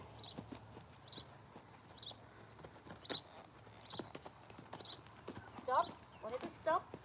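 An older mare trots in an arena, hooves clip-clopping in a quick, regular rhythm near the listener while someone speaks over the footfalls and the horse snorts.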